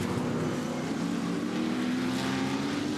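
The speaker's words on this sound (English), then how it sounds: "the cars on the absolute maximum under brakes, swerving their way into 5" Muscle race cars at Pukekohe brake hard and swerve into turn five, a sustained engine drone with a steady tonal hum, fairly loud and even throughout with no talk.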